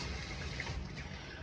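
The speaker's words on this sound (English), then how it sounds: "use piping hot water so that your coffee, so that it cooks" Piping hot water poured over coffee, a steady close trickling and filling splash that runs evenly throughout without pause.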